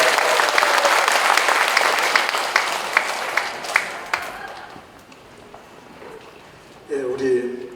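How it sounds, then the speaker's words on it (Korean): Church seminar audience bursting into vigorous, dense applause for about four seconds, then fading out, with a voice starting to speak near the end. "우리 박수 힘차게 하겠습니다."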